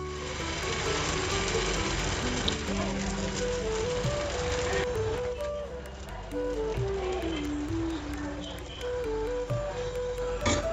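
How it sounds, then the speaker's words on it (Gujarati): Batter spread on a hot, lightly oiled pan sizzles in a soft, steady hiss throughout, with gentle background music playing over it. "આપણે જે બેટર રેડી કરેલો છે એક ચમચો લઈ અને આપણે પેનમાં પાથરી લઈશું"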